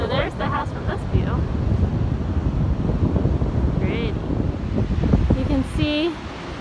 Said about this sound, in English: Arlo and I came up because it's a bit windy